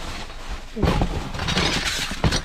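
Glass shatters among discarded items in a dumpster, a sharp crash followed by scattered tinkling and a second brief clatter, close and fairly loud against a faint background hiss.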